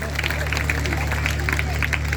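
A village crowd in Kotdi applauds a guest at a Mahashivratri festival, dense steady clapping throughout over a low electrical hum.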